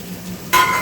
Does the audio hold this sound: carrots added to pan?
yes